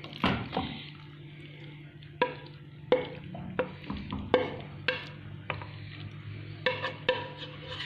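A cauliflower and potato omelette mixture cooks in a heavy nonstick frying pan, with a steady low sizzle under scattered clinks and scraping taps of a utensil against the pan.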